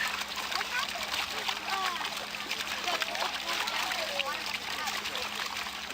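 Water sloshes and splashes in a full gold pan worked by hand during panning, with continuous splatter and trickle close by while people talk.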